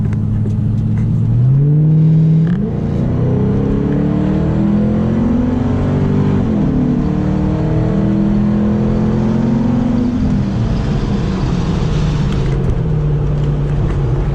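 A 2005 Ford Mustang GT engine with a K&N air filter revs up hard and loud, climbing in pitch through the gears with a deep throaty roar, then settles back to a rumbling idle.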